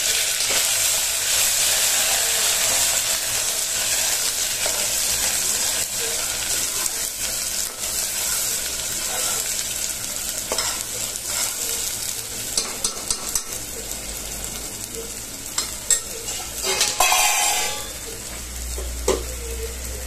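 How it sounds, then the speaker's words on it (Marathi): Ground spice paste sizzles and crackles in hot oil. The steady frying noise carries scraping and stirring clatters and gradually settles, with no voices heard. "आता बघा तेल तापलेलं आहे, मी मसाला टाकते."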